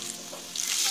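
Fish belly sizzles in a hot wok with onion, tomato and green chilies, a short bright frying hiss that swells louder toward the end, close up and without voices.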